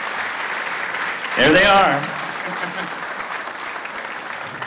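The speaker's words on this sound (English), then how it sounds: "give them a round of applause" A college band concert audience claps in a broad, sustained wash, with a voice briefly speaking over it near the start before the applause continues evenly.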